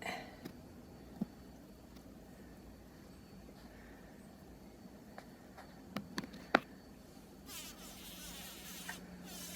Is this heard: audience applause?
no